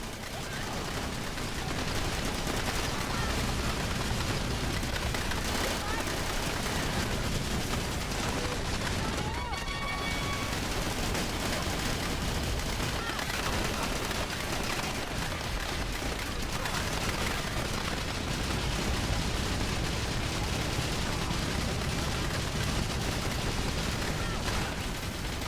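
Mortar grenades and gunfire explode in the GameCube game Battalion Wars, a dense, continuous barrage of booms and rapid shots that stays loud and unbroken for the whole stretch with no pauses.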